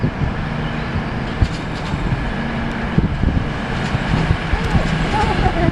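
Eurostar train pulling out of Ashford station, a steady low rumble and rolling noise under an outdoor wash of platform ambience, with occasional voices nearby.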